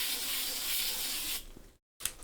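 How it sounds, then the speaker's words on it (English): Insect spray hisses from an aerosol can aimed at flies, a steady broadband spray lasting over a second before cutting out, then a brief final burst after a short silence. "Just spray some stuff over there to get rid of the flies."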